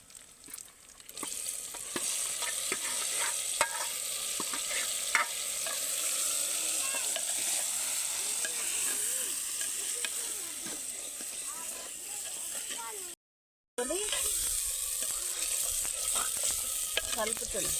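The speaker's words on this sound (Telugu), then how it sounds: "దాంట్లో మటన్ వేసుకుంటున్నా." Mutton sizzles steadily as it fries in a pan with onion and chili, with a spoon scraping and stirring through it, up close and continuous, while a person talks over the cooking.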